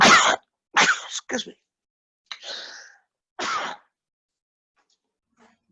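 A single sharp sneeze bursts out near the start of a math lecture, followed by a few short vocal sounds and a brief spoken apology, then quiet.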